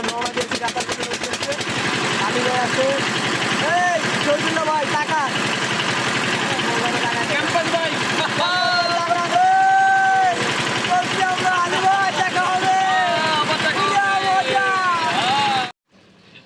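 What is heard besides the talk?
trawler boat engine setting off on river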